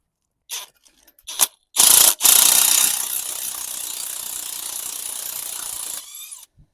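Ratchet on an MG TF alternator tensioning screw with rough, poorly cut threads: a few sharp clicks, then a loud burst of close ratcheting that settles into a steady grinding whir before stopping.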